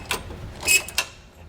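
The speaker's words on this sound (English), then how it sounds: "so we'll just go ahead and get this tightened down" Faint ratcheting clicks from a wrench tightening a bolt on a front anti-sway bar bracket of a 2008 Freightliner, a few short metallic ticks with brief pauses, close and quiet.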